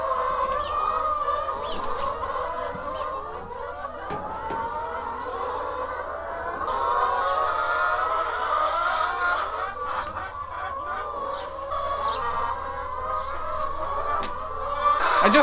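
Flock of hens in a backyard coop, loud overlapping clucking and squawking close by, continuous throughout with occasional sharper calls rising above the chatter.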